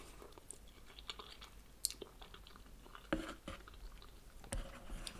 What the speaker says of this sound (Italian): Però meglio masticarla.